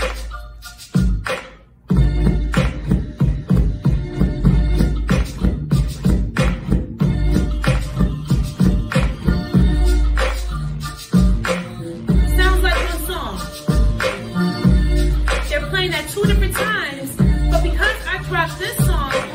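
Two songs mixed on DJ turntables and dropped together on the first beat, heard as a loud, continuous dance track with a heavy, regular kick and layered music, nobody talking.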